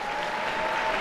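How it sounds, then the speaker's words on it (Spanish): Applause from the faithful and pilgrims filling the Paul VI Audience Hall at the Vatican during a papal general audience, a steady, dense clapping wash sustained from start to finish. "los aplausos de todos los fieles y peregrinos que están en el aula Pablo VI"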